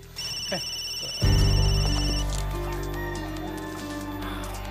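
A telephone rings with a steady electronic tone at moderate volume over a low background drone and other indoor noise, with no talking.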